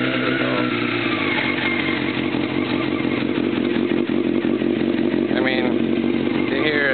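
A 1994 Honda CBR 600F2 with a loud shortened pipe runs in cold outdoor air, its close, raspy engine roar steady and blaring throughout, while someone talks over it.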